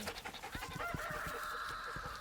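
Chickens cluck and murmur softly at close range, overlapping in a busy, faint chatter.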